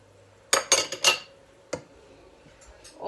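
A metal spoon stirs tamarind pulp into boiling jaggery water in a pot, giving a quick cluster of clinks against the pot, then a single tap and faint scraping, all close and fairly quiet.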